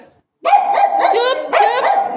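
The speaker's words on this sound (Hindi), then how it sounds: "ये लूका ना बच्चों को देख के इतना भौंकता है" Luka, a pet dog, lets out loud, close barks after a brief silence: a sustained run of sharp yaps, then a fresh burst about a second later, with no talking.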